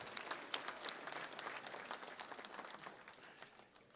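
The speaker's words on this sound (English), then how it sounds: "it would be good to give Marilyn a round of applause" A gathering at an assembly session breaks into a quiet round of applause, soft and somewhat distant clapping that continues evenly and gradually thins toward the end.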